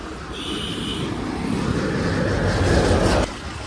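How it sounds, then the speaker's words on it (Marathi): Heavy road traffic with large vehicles at the busy Sus junction chowk, a continuous loud roar of engines and rolling wheels that swells steadily before dropping off abruptly near the end. "हे बघा ट्रॅफिक सुसच्या चौकात"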